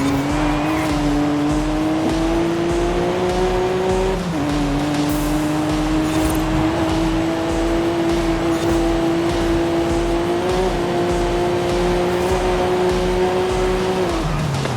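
A Vauxhall Lotus Carlton races a lap in Forza Horizon 5, its engine droning loud and steady as pitch climbs through gears, with brief dips at shifts and a faint tire squeal.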